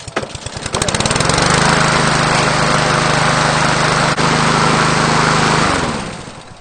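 Small engine cranks with a rapid sputter, catches and settles into a loud, steady high-pitched run close by while the oil warms, then winds down toward the end.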